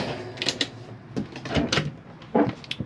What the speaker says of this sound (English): Slide out condiment drawer